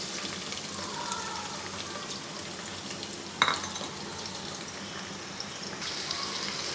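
Onions, green chilies and red chilies dropped into hot oil, a soft continuous frying hiss with one sharp clatter midway, fairly quiet and without talk.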